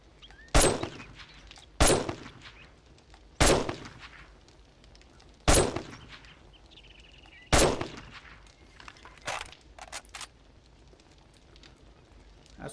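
Video game gunfire: about seven sharp, loud single shots spaced irregularly one to two seconds apart, each with a short decaying tail over faint background ambience.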